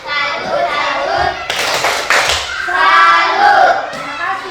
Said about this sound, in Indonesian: kita beri tepuk salut untuk kelompok Santo Petrus